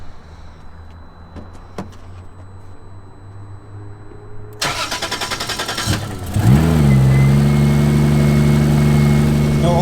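A 2JZ engine fitted in a Ford Mustang strapped to a dyno cranks briefly with a rapid chatter, then catches and settles into a loud, steady idle; faint clicks come before the start.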